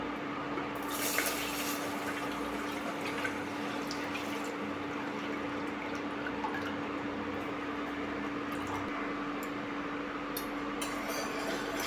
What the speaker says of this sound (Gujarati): હવે આપણે એની અંદર દૂધ એડ કરીશું